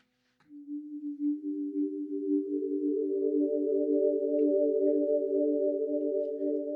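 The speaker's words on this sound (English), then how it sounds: "Since I'm only working with sine waves and those don't have overtones" Pure, steady synthesizer sine-wave tones without overtones stack up one after another, a low hum joined by higher sine pitches that hold smoothly and loudly with no texture.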